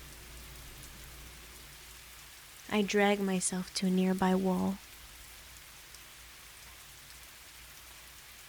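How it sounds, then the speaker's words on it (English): Steady rain from the video game Fallstreak patters on hard surfaces as a soft, constant hiss, with a voice narrating briefly over the middle. "Nothing remained but the sound of rain."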